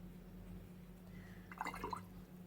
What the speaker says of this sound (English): I'm just cleaning my brush here